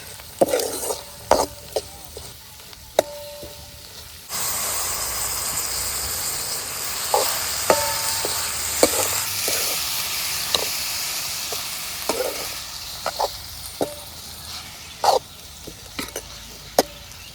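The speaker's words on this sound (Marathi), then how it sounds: "यात हळद बी टाकली वाईच चांगलं तळायला लागते कांद्याला ग्रेव्ही झाली बघा कांद्याची आणि मसाल्याची" Onion and masala gravy with turmeric sizzling in a pan, a loud continuous frying hiss that swells partway through, broken by sharp clinks and scrapes of stirring, with no talk.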